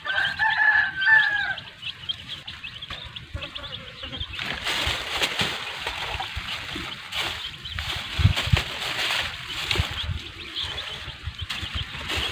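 Chickens cluck and call while feeding on fallen, overripe rose apples in an orchard, with a rooster crowing among them; the busy fowl sounds run steadily and mid-distance over outdoor background noise.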